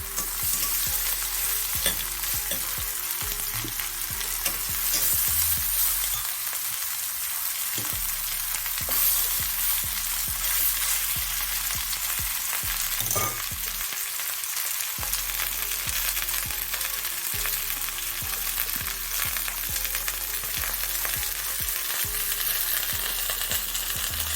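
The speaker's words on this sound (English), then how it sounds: "Once it's frying one side, you're gonna turn it over to the next side." Continuous loud sizzling of chicken frying in a pan, with occasional clinks and scrapes, close up and steady throughout, no voices.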